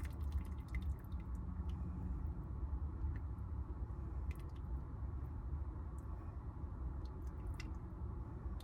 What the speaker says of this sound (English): let that water drain out of here